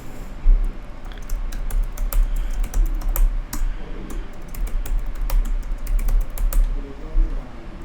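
Rapid keystrokes on a computer keyboard as a password is entered, a steady run of close, crisp clicks and taps with no talking.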